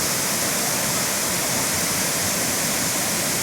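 Steady, loud rush of Burney Falls in northern California, a dense continuous roar with no breaks.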